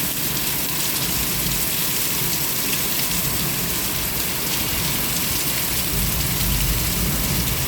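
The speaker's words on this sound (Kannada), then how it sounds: "ಭಾರಿ ಮಳೆ ಬರತ್ತಿತ್ತು" Heavy rain pounds down in Ranebennur, Haveri, in a dense, unbroken roar, loud and close, with no voices.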